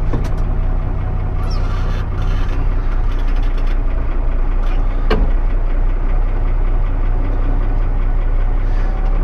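A tractor engine idles steadily and loudly as it is put into first gear, a constant low rumble with a brief clunk partway through.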